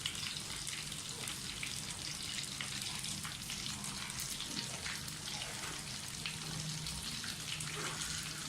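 Potato cutlets coated in oats shallow frying in a little ghee, giving a steady, even sizzle and crackle throughout, close and moderately loud with no talking.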